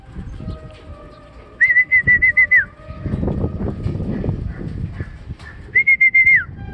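Racing pigeons at a pigeon club in Labo, Camarines Norte, with soft cooing and low rustling beneath two bright, repeated whistle bursts, nearby and fairly loud.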